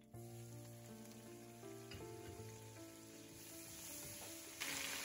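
Mint leaves sautéing in masala in a pan, a faint, even hiss of frying that holds steady throughout with a slight swell near the end, alone and quiet.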